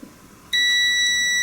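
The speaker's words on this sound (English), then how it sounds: "if I touch my multimeter between those 2 points, I'm going to hear the beep" A multimeter on continuity test sounds a sharp, steady high-pitched beep that starts abruptly and holds loud, checking a Saeco Odea Go espresso grinder's parts after a quiet moment.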